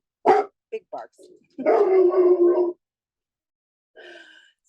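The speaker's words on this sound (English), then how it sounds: "Whoa, big barks." A dog gives a few big, loud barks close by, in short bursts followed by a longer rough, growly stretch and a fainter bark at the end, while people talk.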